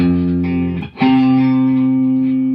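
Electric guitar played through a distortion effect, two loud sustained overdriven chords with a brief break between them, thick harmonics and a bright, biting edge, with no voices.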